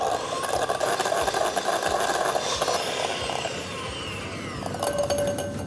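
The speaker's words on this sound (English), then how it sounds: "And then I'm going to start beating this." An electric mixer beating a frothy mixture as sugar is gradually added for a gulab jamun baked Alaska, a steady near whirring drone with faint rattling, no talking.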